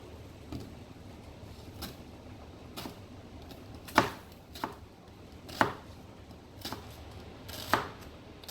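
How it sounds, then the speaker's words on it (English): A knife chops onion on a cutting board in sparse, irregular strikes, a few landing louder and sharper, with quiet room noise between them. "I cut up a green onion, chop up my onion"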